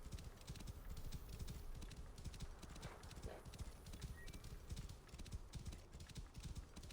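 Horse hooves clip-clop in a steady rapid rhythm in Assassin's Creed Origins, a quiet continuous trotting patter that runs throughout with faint background ambience.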